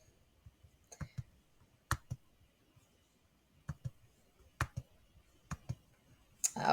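A computer mouse clicks in crisp, isolated taps, often in quick pairs, about eight times across a quiet background.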